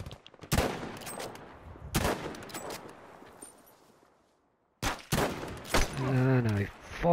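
Video game gunfire as a squad shoots at an enemy: sharp separate shots in short bursts, loud and near, with a brief lull and then more shots mixed with talking voices.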